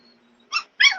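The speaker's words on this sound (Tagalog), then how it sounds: "Ang ingay ng aso ko." A dog gives two short, close barks in quick succession, the second longer and trailing off, over a faint background hum.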